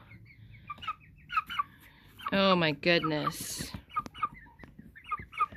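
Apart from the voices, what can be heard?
chickens clucking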